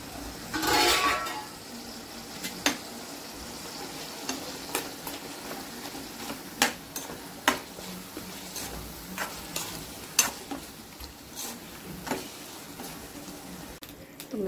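Mutton cooks in a pan with onion, tomato, curd and spices under a low sizzle, while a spoon scrapes and stirs in a loose, repeated rhythm, close and moderately loud.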